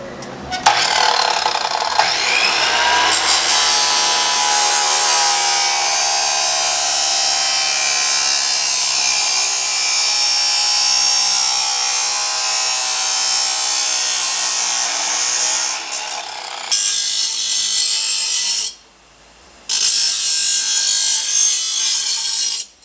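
Steady, loud abrasive grinding on a Triumph 765 Moto2 trackday motorcycle part, a continuous harsh whine running nearly twenty seconds, with a short pause near the end before it resumes.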